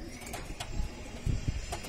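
Soft, low cooing from a pair of Bajra pigeons, a few murmuring bursts close by over faint background noise.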